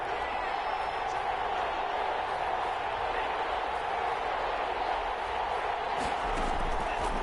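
A stadium crowd at a football game roars in a steady, dense wash of cheering and noise ahead of a big third down, sustained and unbroken throughout.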